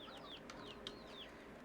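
Chickens in the video game Slime Rancher 2 give soft, short clucks and chirps in a quiet ambient scene, with several faint calls scattered across the moment and no talking.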